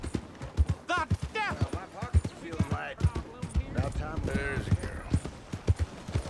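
In Red Dead Redemption II, horse hooves clip-clop in a steady, brisk rhythm while a player talks over them almost throughout.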